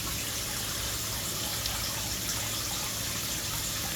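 A cheap waterfall fountain on a backyard pool sprays water in a steady, close, continuous gush and splash that holds at an even level throughout, with no talking.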